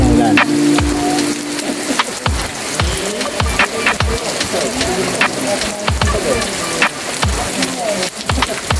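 Heavy rain gathers strength at a mountain work site, a dense constant roar of drops striking surfaces with sharp splatters and knocks throughout, loud and close.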